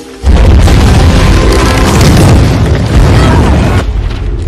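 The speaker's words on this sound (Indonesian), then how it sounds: "mereka pun langsung terpental terkena ledakan yang sangat dahsyat" Huge explosion in an action film, a sudden loud boom that roars and rumbles for several seconds before cutting away abruptly.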